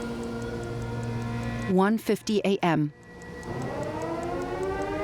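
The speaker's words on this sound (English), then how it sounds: "Sirens are going off at the Pointe du Hoc, signaling the presence of bombers." Air raid sirens at Pointe du Hoc, a long wailing tone that rises and falls behind a man's speech, with the narration breaking in over it midway.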